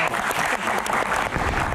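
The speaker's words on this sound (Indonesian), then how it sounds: "Tepuk tangan." Loud, dense applause from an audience, steady clapping filling the whole moment without a break.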